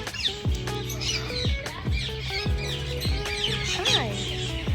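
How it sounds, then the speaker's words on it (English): Many birds, over a hundred of some 32 species, chirp, whistle and squawk together in an aviary, a dense, continuous chorus of overlapping calls with sharp repeated notes. "Inside we have over 140 birds, 32 different species from around the world."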